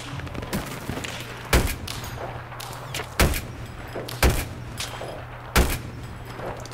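Sniper gunfire in the video game Battlefield 3: four sharp, loud single shots spaced a second or two apart, each cracking out over a low steady hum.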